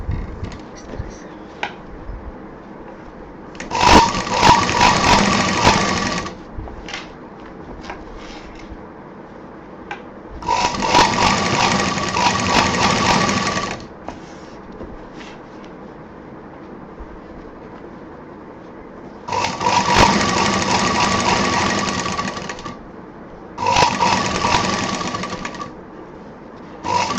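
A sewing machine stitches handbag pieces together in four separate runs of a few seconds each, a loud, close, rapid rattling drone, with quieter handling noise and faint speech in between.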